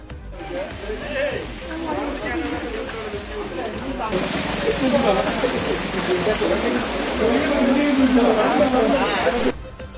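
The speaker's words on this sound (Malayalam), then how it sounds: "അപ്പോൾ നല്ല മഴ പെയ്തപ്പോൾ ഞങ്ങൾ ബൈക്കിൽ നിന്ന് ഇറങ്ങിയിട്ടുണ്ട്." Heavy rain pours at a roadside tea stall on a motorbike trip near Malampuzha and Kanjikode, Palakkad. A dense hiss swells louder midway while people talk over it.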